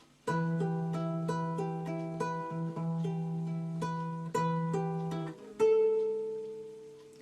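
A stringed instrument plays a simple beginner melody over plucked chord accompaniment, clear and close, with sustained bass notes under a steady sequence of bright picked tones that shifts to a new chord near the end.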